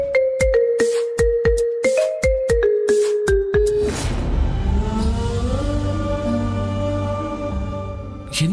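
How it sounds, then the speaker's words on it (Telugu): A mobile phone rings loudly with a quick, repeating melodic ringtone for several seconds, then gives way to swelling dramatic music in a Telugu television serial scene. "నాకు ఈ ఫోన్ రింగ్ అవుతుంటే సుత్తి తీసుకుని గుండెల మీద కొట్టినట్టుంది"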